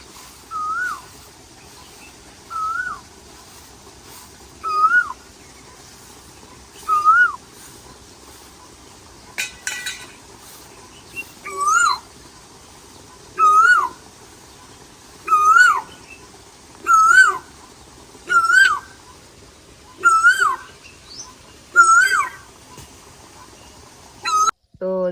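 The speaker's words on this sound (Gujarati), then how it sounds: "સરસ મજાનો જો કોયલનો અવાજ પણ સંભળાઈ રહ્યો છે" An Asian koel sings a repeated rising two-note call, clear and fairly close, at regular intervals of a second or two across a quiet rural farm setting, growing more frequent toward the end.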